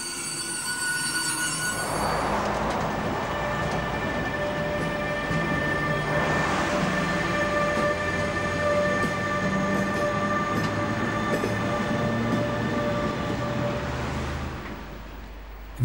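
A new electric locomotive hauls a train up the gradient near Hüttenrode on the Rübelandbahn, a loud sustained rumble with droning motor tones and wheel squeal, rising and passing close by.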